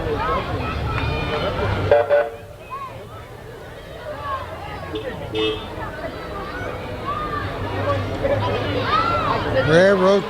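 A train passes a railroad crossing during a parade in Plattsburgh, sounding its horn and rumbling beneath the chatter of nearby voices and crowd babble, with the horn rising again near the end.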